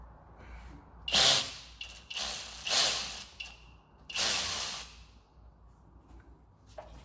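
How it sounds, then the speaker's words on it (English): Ratcheting wrench loosening the AC line fitting at the compressor of a Ford F-150 3.5 EcoBoost, heard as three close bursts of rapid clicking with short pauses between them and a faint metallic tick near the end, without speech. "we're going to take this AC line loose."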